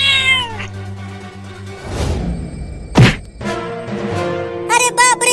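A cartoon cat meows several times, with rising and falling cries at the start and end and a hard thump in the middle as a wardrobe is knocked over. No talking.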